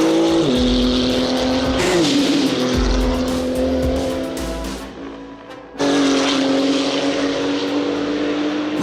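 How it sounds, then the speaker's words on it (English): Porsche Moby Dick race car engines, including a flat-six, fire up and rev hard: a loud, close, raspy roar that rises, dips and briefly drops away near the middle, then bursts back to full howl. "Let's start the engines."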